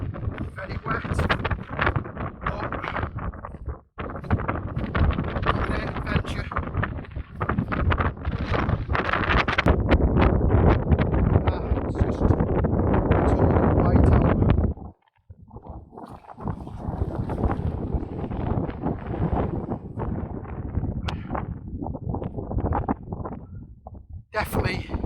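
Strong gusting wind in a steep, wet mountain whiteout blizzard roars and buffets close against the microphone, surging and dropping with brief lulls, while a voice speaks beneath it.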